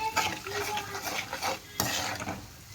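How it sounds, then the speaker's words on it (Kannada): Salt and turmeric being mixed into food in a pan, heard as close scraping and stirring strokes with light clinks of a utensil against the metal. "ಇದಕ್ಕೆ ಉಪ್ಪು ಮತ್ತು ಅರಿಶಿನ ಹಾಕಿ ಮಿಕ್ಸ್ ಮಾಡಾಕತ್ತೀನಿ"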